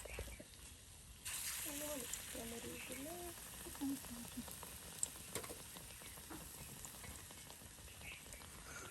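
Battered potato chops deep-frying for iftar in a Bangladeshi village kitchen, a steady bubbling sizzle of oil that swells after a second, with a voice speaking over it and an occasional sharp tap.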